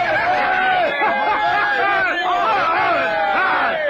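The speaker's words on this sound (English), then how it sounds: "And now the bloodthirsty crowd was cheering for me" Bloodthirsty crowd cheering at a gladiator pit fight: a dense, continuous roar of many overlapping voices at steady high volume, with rising and falling shouts throughout.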